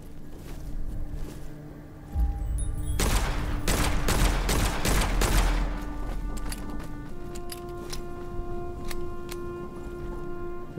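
Gunfire in the fantasy shooter game Witchfire, a dense burst of rapid hip-fired shots over about three seconds, then scattered single shots against a droning background score.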